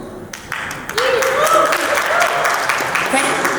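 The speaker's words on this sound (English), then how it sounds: "Men are clapping, that's a good sign." A crowd applauds in a sustained wash of clapping, with a voice speaking over it.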